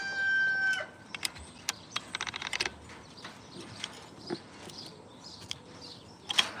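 Roosters on a farm crow once near the start, then scattered clucks, clicks and light rattles follow at uneven intervals against quiet background noise.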